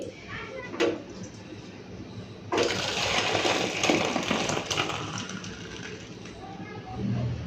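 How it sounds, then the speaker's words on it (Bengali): Cooked lentils (dal) pour out in a continuous wet gushing rush lasting several seconds, preceded by a couple of clanks, heard close in a home kitchen. "তো ডালটা হয়ে গেছে, এখন আমি ঢেলে ফেলবো"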